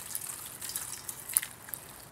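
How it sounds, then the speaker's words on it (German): Water poured over chopped vegetables in a pot for homemade stock gives a short, close, bright trickling splash with small drips, and no talking. "Das Ganze dann mit Wasser bedecken."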